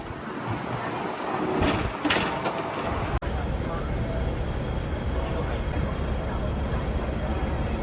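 A double-decker ding-ding tram rumbles along a Hong Kong street toward Sheung Wan, a steady close rolling drone with a short clunk partway through and some voices in the background.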